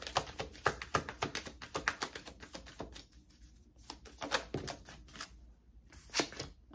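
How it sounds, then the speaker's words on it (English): A deck of tarot cards being shuffled up close, a quick run of crisp riffling snaps, pausing briefly before starting again. "I'm going to grab all that and put that back in shuffle again."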